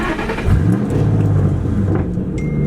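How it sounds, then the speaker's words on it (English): A loud, deep Mustang GT engine with straight pipes rumbles close by, idling roughly right after starting, with steady low throb and slight revving. "let's get a little straight pipe GT startup"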